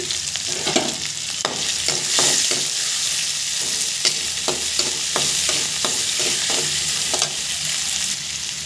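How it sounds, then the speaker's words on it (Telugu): Onions fry in a pan for puffed rice upma, a steady close sizzle punctuated by repeated stirring scrapes and light knocks of a spoon against the pan. "ఇలా వేగినాక ఒక రెండు ఆనియన్స్ వేసుకోండి ఆనియన్స్ కొంచెం కలర్ మారే వరకు బాగా వేగనివ్వండి"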